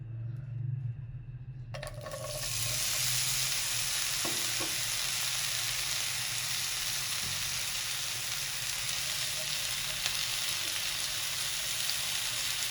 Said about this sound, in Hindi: ये सारे बैंगन मैंने इस छोटे छोटे स्लाइस के काट लिए। अब इनको हम फ्राई कर लेंगे।